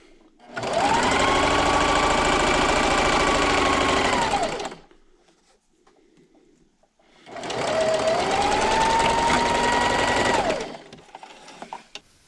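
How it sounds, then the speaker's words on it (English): Sewing machine stitching a patriotic pocket placemat, running in two long steady bursts of motor whir with a short quiet pause between, close and loud. "And then just keep sewing all the way down."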